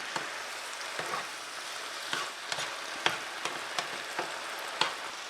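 A pot of charro beans cooking on the stove, giving a steady soft bubbling and sizzling hiss broken by small irregular pops, fairly quiet.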